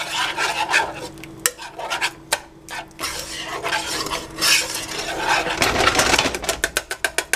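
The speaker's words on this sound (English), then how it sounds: "just keep adding milk and keep stirring" A spoon stirs and scrapes through cheese sauce in a pan as milk is added, giving repeated close, rasping strokes against the metal with brief pauses between bursts.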